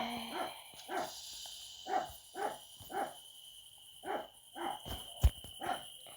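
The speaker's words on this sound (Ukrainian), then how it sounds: "Ой, вибачайте, це моя собака." A dog in the video game Avatar World barks in short, evenly spaced bursts, about ten barks over several seconds, fairly close with some background hum.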